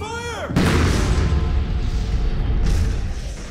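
Ship's guns fire aboard the First World War monitor HMS M33: a sudden loud blast breaks in after a moment, followed by a sustained heavy rumbling roar and a second surge near the end.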